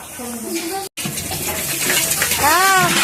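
Dishes are washed with soap and running water, a close, steady gush from the tap with a brief cutoff, while a person talks alongside.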